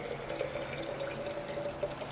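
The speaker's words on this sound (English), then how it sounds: "You just fill it up with your hot water, right?" Hot water runs steadily into a glass canning jar, packed with kidney beans, under Tattler reusable lids, a continuous close pour with a faint rising tone as it fills, no talking.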